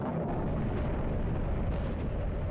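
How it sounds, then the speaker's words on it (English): Covenant cruiser blowing up in the video game Halo Reach, a huge continuous roaring explosion that fills the whole moment with dense, loud, sustained rumble and no voices. "And then it does a final explosion that's honestly too large."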